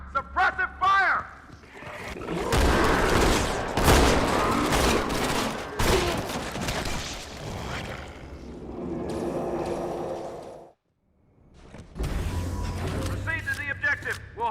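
Dense bursts of automatic weapon fire in a Halo video game battle, loud sustained volleys broken by a brief silence, with shouted game voices over the shooting.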